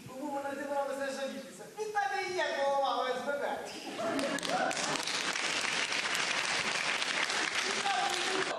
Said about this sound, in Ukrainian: Кожен епізод на сцені глядачі зустрічають гучними оплесками.